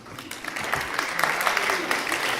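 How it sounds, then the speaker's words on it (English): Brief applause from a small audience at a school reading event, a steady patter of claps lasting a couple of seconds with faint voices under it. "And we can applaud today."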